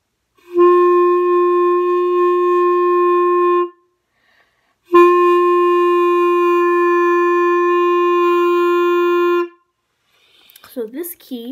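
Woodwind instrument played in two long, steady reedy notes separated by a short pause, close and clear, followed by a brief faint voice at the end.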